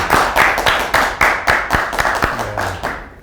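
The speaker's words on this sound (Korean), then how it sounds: "우리 박수 한번." An audience applauds at an interview event honoring a professor's marketing award, a steady burst of close, crisp hand claps that gradually thins out and fades over about three seconds.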